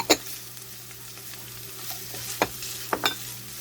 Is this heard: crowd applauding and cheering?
no